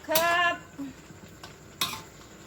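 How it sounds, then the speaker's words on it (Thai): Vegetables and shoots are stir-fried in a metal pan, with a spatula clanking and scraping against the pan in a few separate strokes over a faint background sizzle. "ผัดผัก"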